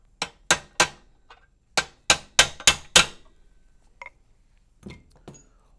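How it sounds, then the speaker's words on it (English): Sharp metallic taps driving trolling motor bracket pivot pins into place, a quick cluster of blows followed by a second rapid run, then a few lighter isolated knocks in a quiet room. "The pivot pins may need to be tapped into place."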